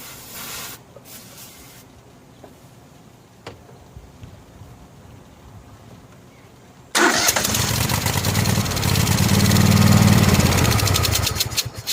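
A Craftsman 6500 garden tractor mower cranks after several seconds of quiet clicks and fumbling, then the engine suddenly catches and roars into a loud, steady, close running drone that swells and holds.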